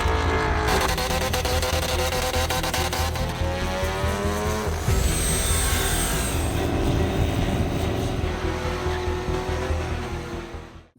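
Loud roaring car engines revving close by, a continuous rumbling drone with rising and falling pitch and an occasional whine of tires.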